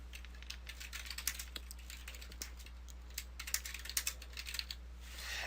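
Rapid, irregular keystrokes on a computer keyboard while typing HTML code in Dreamweaver CS6, soft clicky taps coming in uneven bursts over a steady low hum.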